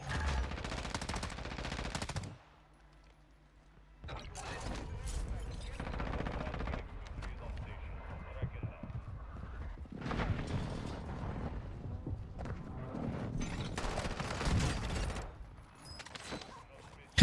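Bursts of gunfire in Warzone MW2 on a quiet, low-level recording: rapid volleys, a brief gap, then further extended firing with mechanical clatter mixed in.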